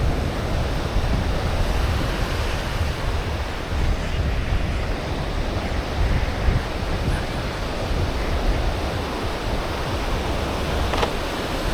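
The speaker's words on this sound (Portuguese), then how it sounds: "E o barulhinho do mar, a nossa trilha sonora do dia." Sea waves wash steadily onto the beach at Canasvieiras, a continuous broad surf roar with wind buffeting the microphone, no voices, holding at an even level throughout.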